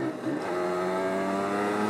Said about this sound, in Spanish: esta moto anda muy áspero